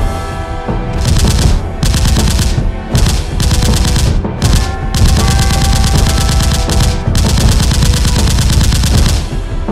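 Rapid bursts of gunfire from an animated short, loud and close, firing in several long volleys separated by brief gaps, with no talking.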